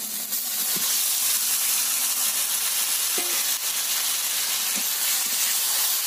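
Steady loud sizzle of marinated chicken frying in a pan with onion, tomato, garlic and a dried chilli, with a continuous hiss and a few faint stirring knocks throughout.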